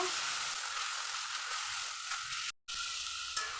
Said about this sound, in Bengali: আলুটা উচ্ছেটা দিয়ে এর ভিতরে দিয়ে দেবো দিয়ে আমি একটু নাড়িয়ে সরিয়ে নেব